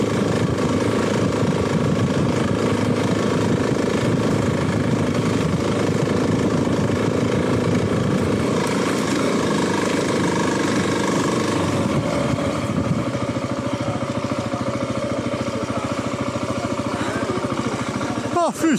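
A GasGas ES 700 enduro motorcycle engine runs with a steady, loud, continuous drone, its pitch shifting slightly over time, while people talk nearby.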